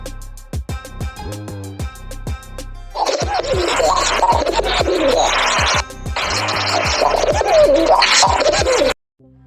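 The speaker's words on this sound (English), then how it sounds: "Pigeon." A pigeon coos in two long, throaty, gurgling phrases, close and fairly loud, over a steady musical backing.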